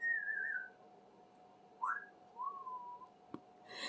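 Smokey, a pet bird, whistles a few clear sliding notes, rising and falling with short gaps between them, close and fairly soft against a quiet room.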